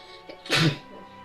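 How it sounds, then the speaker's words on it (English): A single sneeze, fairly close and loud, with a short inhaled lead-in and a sharp burst, followed by quiet room noise. "someone sneezes"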